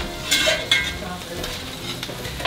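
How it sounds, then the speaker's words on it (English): Onions sizzle steadily in a hot pan while being stirred, with a soft continuous frying hiss and occasional scraping. "frying the onions"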